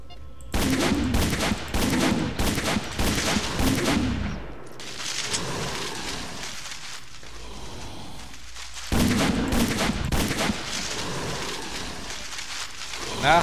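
Gunfire in the S.T.A.L.K.E.R. game comes in rapid bursts, sharp repeated shots clustering loud and close at the start, easing into a duller rumble, then returning in another volley.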